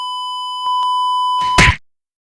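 A censor beep sounds as a single steady, pure electronic tone for about a second and a half, loud and alone, cut off by a short, harsh burst at the end.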